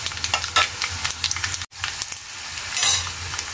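Curry leaves and asafoetida fry in hot oil with a steady, crackling sizzle, broken by occasional stirring scrapes and one brief cut-out midway, close and fairly loud with no voices.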